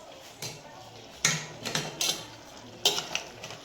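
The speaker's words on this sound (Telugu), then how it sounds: "ఇప్పుడు వేస్తున్నాను ఇలా ఒకసారి కలబెట్టుకోవాలి" Curry leaves are stirred into country chicken curry in a pan of oil: a handful of close, scraping spoon strokes and taps against the pan over a faint background sizzle.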